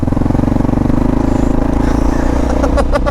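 A motorcycle engine held at light throttle, a loud close steady drone with a thick low rumble and a few faint clattering knocks near the end.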